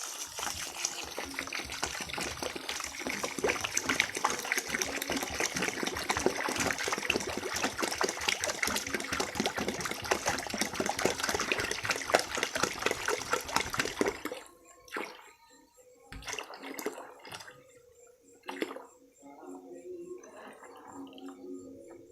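Coconut water pours in a loud, steady gush into a mixture of urea and tape yeast for about fourteen seconds, then drops to a few scattered trickles and splashes. No one talks over it.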